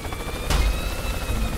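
A helicopter in the game Worms W.M.D thrums steadily with its rotor chop, a brief louder burst near the middle, alone without talk.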